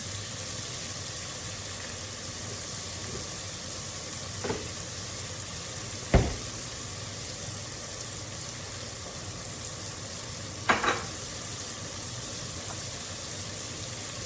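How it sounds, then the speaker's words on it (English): Onions and garlic sautéing in a soup pot give a steady, close sizzle and hiss, broken by a few sharp clinks of a utensil against the pot. "Watching those onions kind of saute down a little bit."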